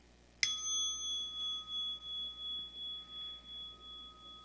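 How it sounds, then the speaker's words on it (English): A meditation bell is struck once with a sharp attack, then rings out in a long, pure, slowly pulsing tone that fades over several seconds in a quiet room. "When I invite this bell to ring, we can just hear the bell."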